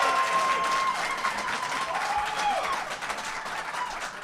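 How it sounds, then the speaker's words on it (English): A debate audience breaks into applause, dense and fairly loud crowd clapping that holds steady and then eases slightly toward the end, with faint voices underneath. "Let's hear some real applause"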